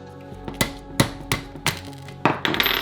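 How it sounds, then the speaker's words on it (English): Hammer blows punching pins out of an AKS-74U rifle part, five sharp metallic strikes at a steady, roughly half-second rhythm, close and loud, then a clattering rattle. "So I'm going to punch them out from that side."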